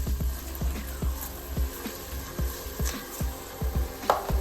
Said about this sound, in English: Now that the onions are a little translucent, we'll add the garlic, stir it around